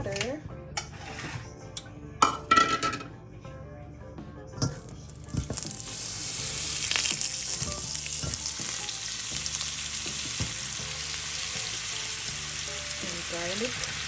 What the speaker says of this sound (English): So I'm just gonna add some butter.